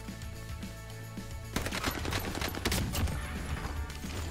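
An STG 44 assault rifle fires in the Warzone video game, starting with rapid close bursts of automatic gunfire that grow dense and loud, with overlapping shots and no speech.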